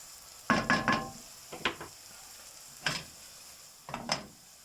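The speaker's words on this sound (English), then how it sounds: "Keep moving around, deglazing the pan." A spoon scrapes and stirs through frying onions in a hot pan as it is deglazed, in four short, brisk bursts of sizzle and scraping separated by quiet pauses.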